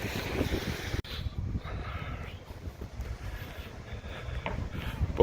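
Gusty wind blowing outdoors in Buxton in the Peak District, rumbling across the microphone in uneven buffets, fairly close and steady with no clear talk.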